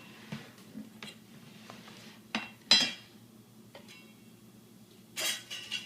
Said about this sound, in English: now I'm going to take my cookie sheet